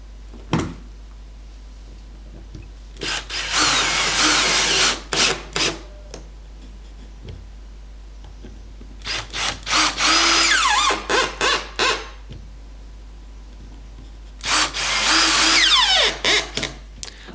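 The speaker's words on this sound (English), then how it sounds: "Then screw them together with a 4 by 30mm long wood screw." Power drill driving 4x30mm wood screws into wooden stand pieces, three separate loud whirring bursts of a few seconds each with short pauses and clicks between them, no voices.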